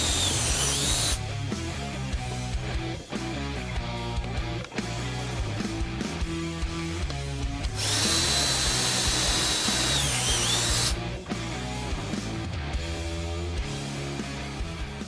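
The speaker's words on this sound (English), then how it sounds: "we're going to drill a 1/4-inch hole right here in order to fish these down through there" Power drill boring a 1/4-inch hole through a center rib for fan wiring on a Ford F-150, a loud close whine with several bursts, pauses and pitch rises as the bit bites, no talking.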